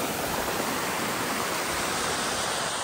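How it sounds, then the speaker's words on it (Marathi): Water flowing at a stream or small waterfall at a scenic spot in Khed taluka near Pune, a dense, continuous broadband rush that stays steady and fairly loud throughout, with no voices. "पाणी फ्लो कमी झालेला आहे."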